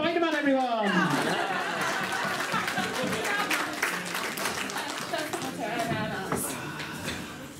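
Audience at a comic con cosplay contest in Cleethorpes claps and laughs throughout, a dense crowd applause bed with chuckles, while a host speaks over it.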